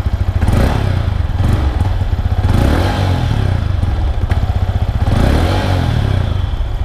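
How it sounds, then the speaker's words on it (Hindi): A 2024 Yamaha MT15 with a 155cc liquid-cooled engine runs close by, a loud, steady low throbbing idle with rhythmic mechanical pulses and slight swells in revs, no voices over it. "एक बार मैं आपको इंजन का साउंड सुनाना चाहूंगा भाई"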